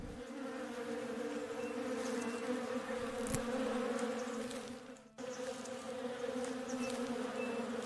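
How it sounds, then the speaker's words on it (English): Bees in Above Snakes hum with a steady, faint buzzing drone that holds evenly, dips briefly once, then resumes unchanged with no talk over it. "Oh, there's some bee."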